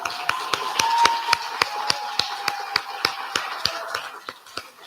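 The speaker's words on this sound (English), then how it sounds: "We'd actually like to invite all our speakers to come back on stage for one final round of applause" Audience applause for the speakers at the close of a spring talk event, a fast, steady run of sharp hand claps that stays even, then begins to thin toward the end.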